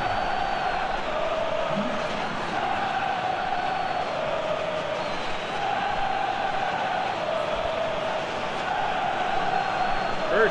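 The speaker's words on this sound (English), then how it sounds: "Now the Venezuelan crowd trying to drown them out." Venezuelan home fans at a Copa Sudamericana football match in a stadium, a steady roaring crowd with chanting tones carrying throughout, dense and distant, trying to drown out visiting Brazilian supporters.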